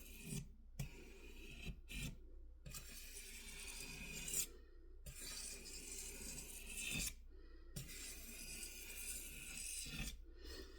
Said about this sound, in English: you can see the amount of grease that I'm able to scrape off of here